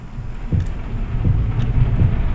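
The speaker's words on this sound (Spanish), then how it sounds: "se escucha como si estuviera lloviendo" Steady rain hisses in a dark horror game, FNAF Shadows Awaken, with low, dull rumbles pulsing underneath at roughly regular intervals, moderately loud and continuous, with no voice.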